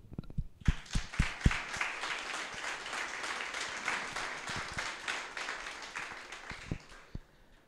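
Clapping breaks out at a conference on extraterrestrials and the future of society, with a few loud individual claps first, then sustained crowd applause that fades to scattered claps.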